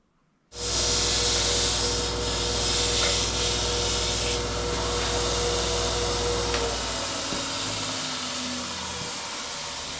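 An axe head being sharpened on a 2-inch knife sharpener, a loud steady grinding rasp running close and continuous for about seven seconds before winding down.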